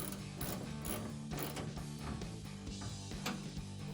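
A 17 mm wrench turns the outside nut while fitting a hood strut kit on a 2016–2023 Toyota Tacoma, giving repeated close ratcheting clicks in quick bursts across the whole stretch, with no talk.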